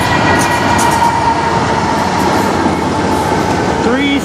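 A CN freight train with three engines rolls past at close range in Sarnia, Ontario, a loud steady rumble and rattle of wagons with a brief squealing tone near the end.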